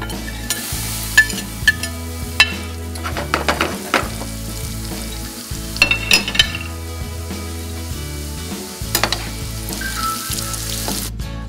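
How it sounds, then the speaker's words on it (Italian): Struffoli dough pieces frying in boiling oil in a pan, heard as a steady close sizzle with stirring and clinks of a utensil against the pan, with no talk. "Raccogliamoli in un piatto poco per volta e andiamoli a tuffare nell'olio"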